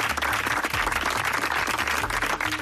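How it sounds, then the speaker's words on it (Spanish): An event crowd applauding a competition team, with loud, dense clapping from many hands continuing throughout, a few sharper individual claps standing out near the microphone. "Así que un aplauso también para el equipo Caguama."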